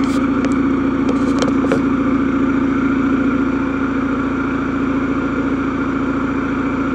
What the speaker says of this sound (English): I'll just drive him out and rev him up a little bit so you can hear what it sounds like.